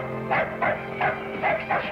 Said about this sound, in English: Her dog.